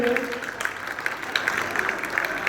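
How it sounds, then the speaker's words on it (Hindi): Audience at a Hindi general-knowledge quiz breaking into applause, a dense run of rapid claps that continues steadily after a brief voice at the start. "जोरदार ताली होना चाहिए"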